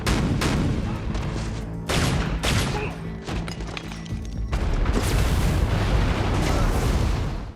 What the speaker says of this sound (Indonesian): Akibat ledakan tersebut, Joe terpental